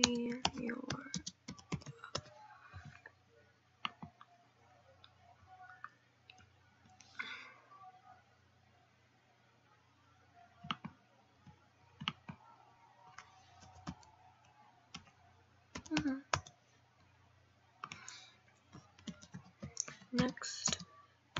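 Keys clatter in uneven bursts on a computer keyboard, faint and close, with quiet gaps between flurries and a low steady hum underneath; a voice speaks briefly at times.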